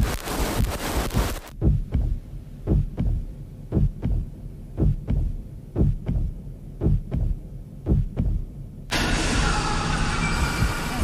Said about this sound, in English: You hear it. You hear a heartbeat.